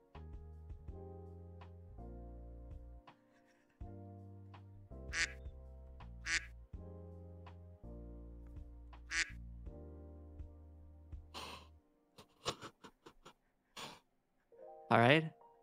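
A voice imitates duck quacks, giving three distinct nasal quacks in sequence while others talk and play music at a slumber-party chat stream.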